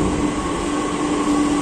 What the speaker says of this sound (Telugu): మెట్రో వచ్చేస్తుంది అనమాట.